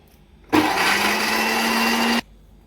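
A kitchen blender whirs loudly for under two seconds, grinding soaked ingredients for schezwan sauce, starting abruptly and cutting off sharply with a steady motor hum in between.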